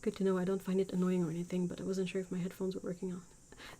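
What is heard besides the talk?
No everyday noise stands out behind the speech.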